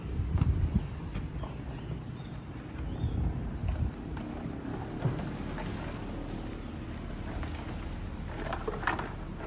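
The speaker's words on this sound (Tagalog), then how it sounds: "Malakas na ang hangin." Steady wind rumbles and buffets the microphone continuously, low and gusty, with faint rustling and no voices.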